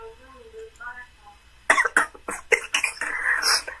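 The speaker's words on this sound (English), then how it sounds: "My grandma hear me coughing." Someone coughs repeatedly at close range in a quick, harsh burst of several hacking coughs, following a moment of quieter voiced sound.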